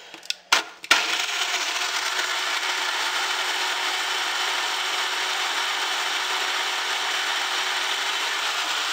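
A blender whirs steadily through a frozen mix after a few brief knocks and rattles at the start, then settles into a loud, even grinding motor drone.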